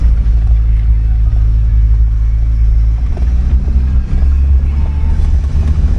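A 2017 Fiat 124 Spider Abarth on the move, its engine rumbling loud and close with a steady low drone and slight shifts in pitch, with no talk over it.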